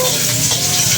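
Onions and garlic sautéing in oil, a steady dense sizzle with faint stirring, continuous and close for the whole second.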